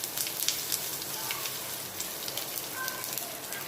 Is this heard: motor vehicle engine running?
no